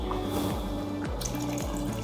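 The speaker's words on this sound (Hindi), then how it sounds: "हमारे पास पानी कम है तो हम पानी और ऐड करेंगे यखनी अपनी," Mutton stock is poured into a pot of rice for homemade pulao, a soft continuous splashing and trickling of liquid heard alone at close range.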